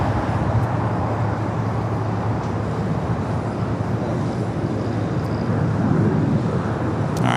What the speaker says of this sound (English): this is the Japan Dreamliner arriving before the Haneda flight